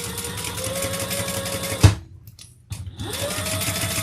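A sewing machine stitches with a steady, close mechanical whir, stops briefly for a moment of near silence, then starts running again at the same pace.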